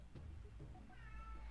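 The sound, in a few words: pet cat meowing, wanting to go outside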